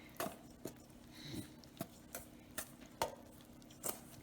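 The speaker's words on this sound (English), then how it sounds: "I'm going to take a spatula this time, give it a good stir" A spatula works through thick chocolate muffin batter, giving a series of soft wet scrapes and light taps against the bowl, evenly spaced and close by, with no talking.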